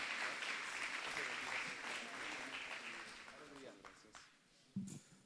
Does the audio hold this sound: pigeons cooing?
no